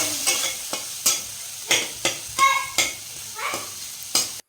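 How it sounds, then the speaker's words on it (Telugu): Noodles stirred in a pan with red chilli sauce, dark soy sauce and vinegar for fast-food style chicken noodles: a steady run of scraping, sizzling stir strokes, about a dozen distinct sweeps, close and alone. "కొద్దిగా red chilli sauce, dark soya sauce, కొద్దిగా వెనిగర్ వేసుకొని ఒకసారి కలుపుకొని"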